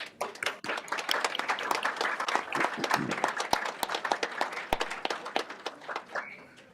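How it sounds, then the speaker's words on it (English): A room full of people gives a round of applause at a Board of Education regular meeting, with many hands clapping in a dense, steady burst that fades out near the end. "We give them all another round of applause."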